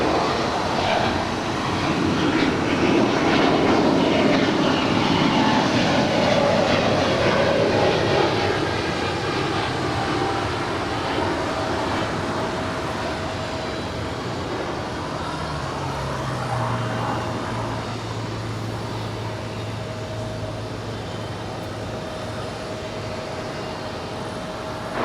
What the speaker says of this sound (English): That is United Airlines Flight 2434 coming in from Newark in the 757-200.